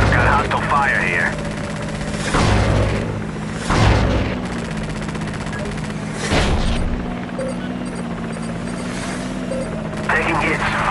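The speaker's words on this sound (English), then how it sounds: "I've got hostile fire here." Gunfire and booming blasts in the video game Hostile Waters, several loud bursts spaced a few seconds apart over a constant engine-like drone, with voices talking throughout.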